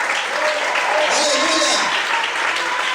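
A church congregation claps in praise during a worship service, a dense sustained burst of applause with voices rising over it in the middle.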